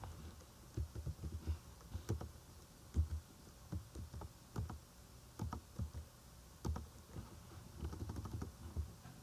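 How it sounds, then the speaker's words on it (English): Fingers type on a computer keyboard, entering coordinate numbers in irregular bursts of soft, close key clicks with short pauses between groups, fairly quiet overall. "So we're going to type in that coordinate point where they intersect."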